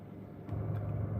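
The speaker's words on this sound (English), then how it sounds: "Yes, I have AC in the car." Car air conditioning blows a steady airy rush inside the cabin, with a low hum that strengthens about halfway through and then holds constant; no one speaks.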